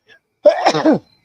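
A single short, forceful human sneeze, close and clear, lasting under a second against near silence.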